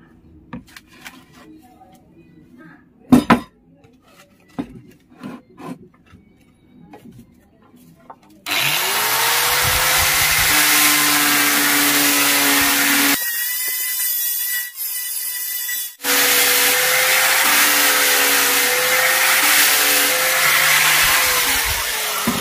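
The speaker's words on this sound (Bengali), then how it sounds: "তো এইভাবে ধরে আমি দুটোকে সেম করে ঘষে নেব।" Two handmade mandolin parts are rubbed together by hand to even them up: about eight seconds of scattered knocks and light scraping, then a steady, loud abrasive grinding that runs continuously, briefly interrupted by a higher whining tool sound.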